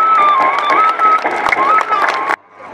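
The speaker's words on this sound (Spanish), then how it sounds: "aplausos para ellos" A crowd at an outdoor school parade applauds and cheers for fourth-year students as an announcer speaks over the PA. Dense clapping and cheering run under the amplified voice, then cut off abruptly near the end.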